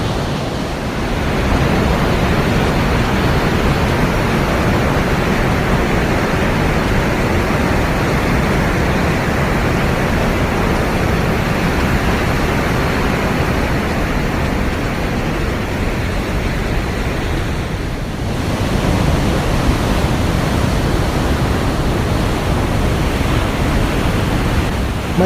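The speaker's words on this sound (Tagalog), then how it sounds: "Medyo maingay na rito at dito halos makahawakan mo na yung tubig ng falls" The Rhine Falls in Switzerland roar close by, a loud, unbroken broadband rush of falling water that holds steady throughout with no voices.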